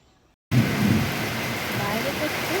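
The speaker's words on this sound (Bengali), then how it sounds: "বৃষ്টি পড়ছে" Heavy rain falls outside, starting abruptly after a brief quiet moment and then holding as a loud, dense, continuous hiss with no break.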